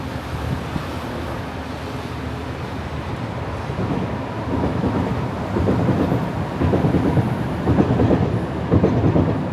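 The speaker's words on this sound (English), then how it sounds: "You see a train coming on the tracks." A Singapore MRT train rolls along the tracks in the open air, a broad rumbling roar that grows louder as it nears, with faint rhythmic wheel clatter and some wind buffeting the microphone.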